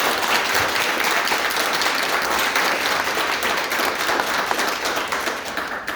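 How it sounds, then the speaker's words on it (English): Audience applause for youth advocates at an event, loud, dense and sustained clapping from a large crowd filling the room evenly for several seconds before easing slightly. "give a round of applause for all the youth advocates who are here today advocating on behalf of students"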